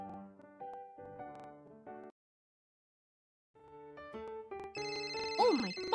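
A cheerful phone ringtone in a BabyBus children's police game, a bright melodic electronic jingle playing in two bursts separated by a short silence, ending with rising sweeping tones.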